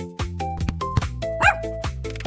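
Dog barks and yips in a playful cartoon-style sequence over bouncy background music, several short bursts in quick succession, fairly close and clear.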